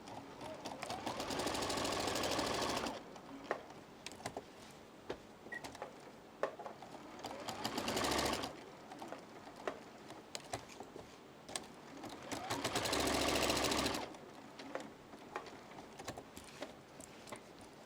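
Sewing machine stitching quilt fabric pieces for a flying geese quilt block, running in three sustained bursts of steady mechanical whirring with quieter handling clicks and rustles between them.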